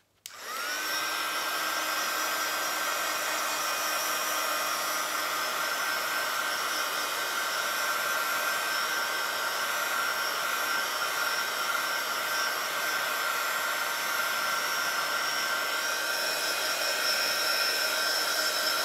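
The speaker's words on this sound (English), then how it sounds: "Give it a go with the heat gun." Heat gun blowing hot air over junk journal pages, switched on abruptly and then holding a loud, steady whine and whoosh with high tonal hum for nearly twenty seconds, close, with no talking.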